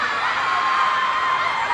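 A mall show crowd screams and cheers in a dense, continuous, loud wall of high-pitched shrieking that holds steady throughout.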